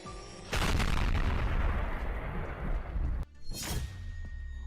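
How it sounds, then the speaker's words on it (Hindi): Russian artillery fires: a heavy, booming blast roars out and rumbles on for a few seconds, followed by a second sharp detonation with a rushing tail. "रूसी तोपखाना आग उगल रहा है।"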